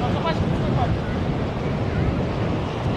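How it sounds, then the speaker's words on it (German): A fresh southerly wind blows across Gündoğdu beach at Side, Turkey, on an April afternoon, making a loud, constant rushing buffet against the microphone with no letup. "Der Wind ist aber schon ein bisschen frisch, obwohl der Wind vom Süden kommt."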